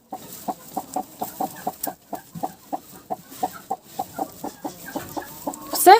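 A broody hen incubating a clutch of turkey eggs clucks in a steady run of short, evenly spaced calls, close and clear across the whole stretch, with a brief louder squawk at the very end.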